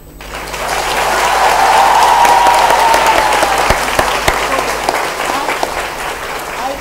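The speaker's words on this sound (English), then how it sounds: "Please welcome with a loud round of applause." An audience applauds loudly at a women's self-defence graduation ceremony, a dense sustained clapping that rises within the first second, holds strong, then gradually thins, with a few sharp claps standing out.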